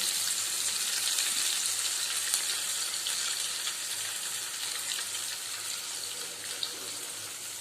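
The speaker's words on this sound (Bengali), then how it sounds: "দেখো তেলটা গরম হয়ে গেছে, এবার আমি এগুলোকে আস্তে আস্তে এর মধ্যে ছেড়ে দেবো।" Mutton cheese toast pieces fry in hot oil, giving a continuous, even hiss and crackle of sizzling close by, with no talking.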